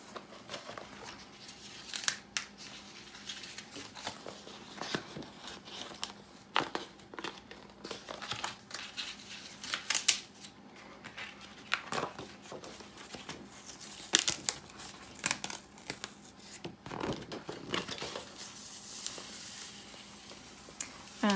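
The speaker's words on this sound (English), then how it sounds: "carefully, you can peel off the excess parts of the cardstock from the mat" Excess cardstock peeled away from a Silhouette cutting mat after a print-and-cut job, giving scattered soft crinkling and tearing rustles that come and go over a low room hum, with no talk.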